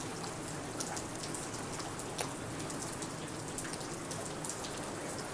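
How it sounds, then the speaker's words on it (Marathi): Steady rain falling on a seashore, a dense even patter with occasional louder drops, no voices. "पाऊस कमी झालो आता"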